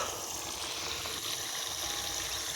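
Water leaking and flowing in a farm irrigation channel, a steady close rushing trickle with constant gushing texture and no break.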